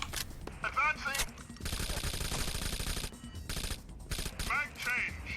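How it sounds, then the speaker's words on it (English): Rapid bursts of suppressed gunfire in the video game Rainbow Six: Vegas 2, moderately loud and sustained in several runs, with mechanical clicks and game effects mixed in. "As I fire with the sound suppressor on"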